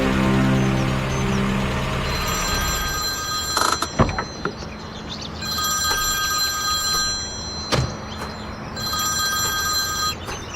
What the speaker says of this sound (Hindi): और अब मैं आमिर को फोन करने जा रहा हूँ